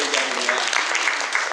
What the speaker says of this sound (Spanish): démosle un aplauso a María